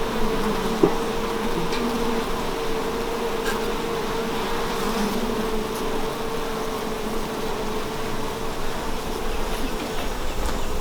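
Honeybees buzz around an opened beehive in a dense, steady drone that carries on throughout, close and loud with no talking.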